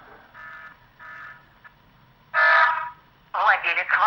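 A Pandora DXL 5000 car alarm's SOS function placing a phone call: two beeping ringback tones, then a louder tone burst and a warbling electronic voice-like signal over a phone line.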